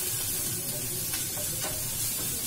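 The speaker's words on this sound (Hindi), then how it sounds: "तो प्याज को हमें गोल्डन ब्राउन होने तक भूनना है," Onions fry toward golden brown in a pan, a dense continuous sizzle with soft stirring scrapes, close and steady, no talking.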